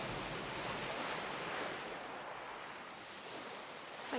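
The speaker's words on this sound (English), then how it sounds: "listen to the sound of the calling waves" Ocean waves from the visual novel game Nurse Love Addiction wash steadily on the sea, a soft, continuous surf hiss with gentle swells, fairly faint and with no voices.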